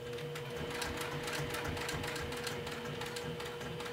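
A sewing machine stitching the sides of a clutch wallet, a steady rapid mechanical whir with a regular needle rhythm, close and continuous without talk.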